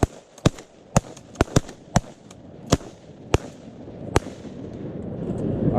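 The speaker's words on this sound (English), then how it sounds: "Good shooting, boys." Shotguns fire during a duck hunt on flooded public land in Iowa, about nine sharp cracking reports in quick uneven succession, some louder than others, followed by rising wind-like noise.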